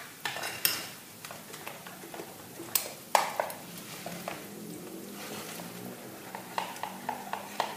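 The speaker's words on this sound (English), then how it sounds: "You want to stir it up really well," Utensil scraping and clinking against a bowl while flour is stirred into a thin pancake-like batter for flatbread, with a sharp metallic tap near the start and uneven scraping strokes throughout, close and fairly quiet.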